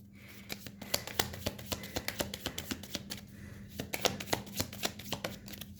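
Close, crisp shuffling of tarot cards, with rapid rhythmic snaps and flicks repeating across several seconds over a quiet background hum, no talking.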